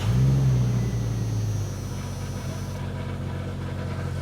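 A Jeep engine cranks and catches, settling into a steady low rumbling idle that runs on alone after a brief louder start.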